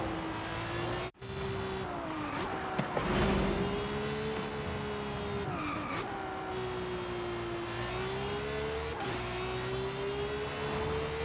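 BMW X5 driving in the video game Forza Horizon, a continuous loud engine drone that rises and falls with gear changes and revving, heard alone without talk.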